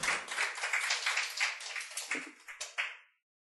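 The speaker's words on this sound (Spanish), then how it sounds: "Dale las palmas al Padre" Church audience clapping for the pastor during a Spanish-language service, a dense patter of hands that thins into a few separate claps before stopping.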